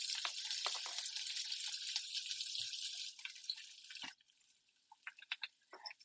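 Chopped shallots hitting hot olive oil in a pan, a loud steady sizzle for about four seconds that then drops to a quieter crackle with scattered pops and spits.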